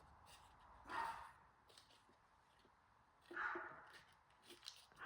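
A dog barks a couple of times outdoors at a passing truck, two short sharp bursts a few seconds apart, fairly distant and faint against a quiet background.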